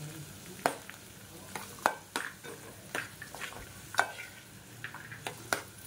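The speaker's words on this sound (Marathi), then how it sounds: "स्वीट कॉर्न चांगले तेलामध्ये असे थोडेसे परतून घ्यायचे, जेणेकरून ते चांगले असे रोस्ट होतील" Sweet corn sautés in oil with onion and tomato, giving a soft constant sizzle broken by close, repeated scrapes and clinks of a spatula stirring against the pan.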